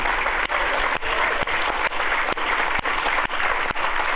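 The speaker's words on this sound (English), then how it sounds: "please, big round of applause for Peter Atkinson." A crowd at a Dungeons & Dragons 50th anniversary event applauds steadily, a dense wash of clapping that stays even throughout, with no talking over it.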